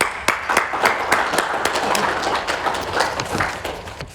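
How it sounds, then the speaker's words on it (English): Audience applause at a rugby union grand final morning tea, a loud, dense burst of many hands clapping with sharp individual claps standing out, sustained evenly throughout. "Give yourselves a big clap."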